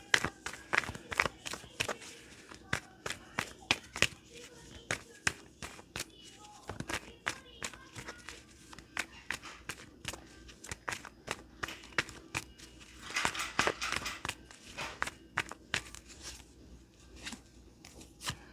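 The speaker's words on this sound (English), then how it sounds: "We'll do one more shuffle for additional info" A deck of tarot cards is shuffled during a pick-a-card reading, giving repeated quick riffling and tapping bursts with irregular rhythm, close and moderately loud, heard alone for the whole stretch.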